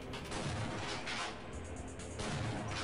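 Weapon fire in the video game Half-Life, a dense, continuous barrage of booming, rumbling shots with no gaps, loud and close throughout.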